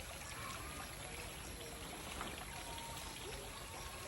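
River water flows steadily with a continuous rushing and trickling, no voices, unchanging over several seconds.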